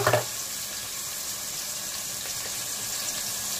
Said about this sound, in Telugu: పచ్చి కొబ్బరి పేస్ట్ వేసుకొని ఫ్రై చేసుకుందాం.